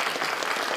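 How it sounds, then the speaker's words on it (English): Audience applause fills a conference hall at the Nor-Fishing Conference 2024, a dense, steady burst of clapping with no talk over it. "Give him a big round of applause."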